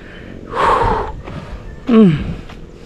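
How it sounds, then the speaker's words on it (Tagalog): Heavy breathless panting from a person winded after climbing up to a tree branch outdoors, two loud gasping breaths about a second apart, close to the mic. "Grabe hingal."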